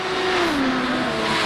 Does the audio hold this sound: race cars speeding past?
yes